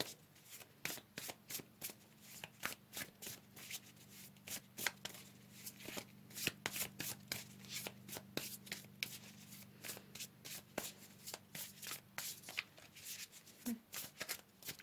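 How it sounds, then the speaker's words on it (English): Tarot cards being shuffled close up, a continuous run of crisp riffling snaps and soft slaps in a steady, rapid rhythm for about fifteen seconds, with no talking over it. "Let's pull another card here for my Capricorn souls."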